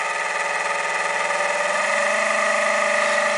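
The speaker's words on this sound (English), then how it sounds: "our motor is getting faster" A small DC motor driven by an Arduino PWM signal whirs steadily, its hum rising in pitch partway through as it speeds up, heard alone and close.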